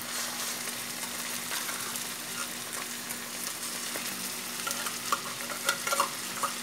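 Chopped onion sautéing in a pan for cabbage with tuna, a steady close sizzle with scattered crackles and a few sharper pops toward the end, no voices.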